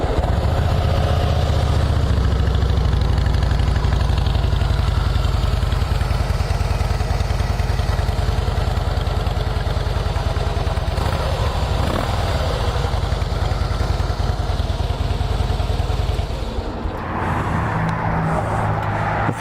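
A used 2011 Harley-Davidson Fatboy FLSTF softail with a hard-mounted, balanced Twin Cam engine idles in a steady, continuous rumble at close range, holding the same level throughout before a slight change near the end.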